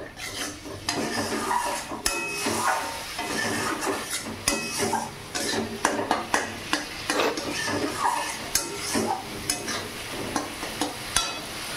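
A spoon stirs cumin powder and spices sautéing in a pan, with a continuous soft sizzle under repeated scraping and clinking strokes against the metal, close and steady throughout.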